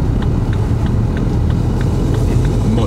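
A car engine hums and rumbles steadily while driving in second gear, loud and close inside the cabin, with faint rhythmic ticks over the low drone.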